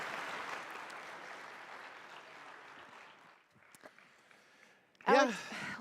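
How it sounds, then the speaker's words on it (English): Conference audience applauding at a live summit, a dense wash of clapping that fills the opening seconds and then thins out, followed by a burst of voice. "I think that deserves a round of applause."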